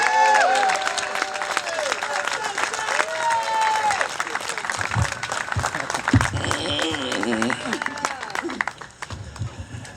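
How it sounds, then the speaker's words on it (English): An audience gives a warm round of applause to welcome a speaker at a community gathering, with steady crowd clapping mixed with voices and a sustained, tonal sound that sweeps in pitch running throughout. "So please give a warm welcome of applause to Mr."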